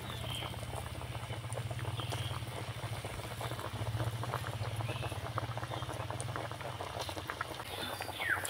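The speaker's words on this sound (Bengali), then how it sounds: "এখন এঁচড়ের পকোড়াগুলো ভেজে নেব।" Jackfruit pakoras in batter frying in hot oil, a steady close sizzle and dense bubbling crackle that continues without a break over a low background hum.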